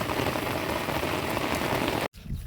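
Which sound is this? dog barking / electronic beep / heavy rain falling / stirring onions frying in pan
heavy rain falling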